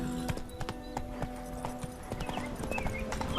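Roach, the horse in The Witcher 3, gallops with a quick rhythmic clip-clop of hooves on the ground, and a whinny briefly rises over the hoofbeats.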